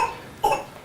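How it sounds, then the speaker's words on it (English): A single short cough from a child sick in a mold-contaminated home, sharp and close, preceded by a faint breathy background. "She coughs and she's wheezing as well."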